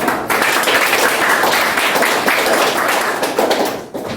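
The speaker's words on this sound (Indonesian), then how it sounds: "Oke, tepuk tangan dong" An audience in a classroom-style Islamic marriage lesson claps together, a loud close burst of many hands slapping in a fast busy patter that stays dense before thinning out near the end.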